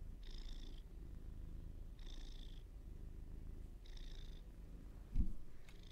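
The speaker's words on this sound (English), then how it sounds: "Listen to that purr." A happy pet cat purring close to the microphone while perched on a shoulder, a steady low rumble with faint repeating high tones, a brief thump near the end, no talking.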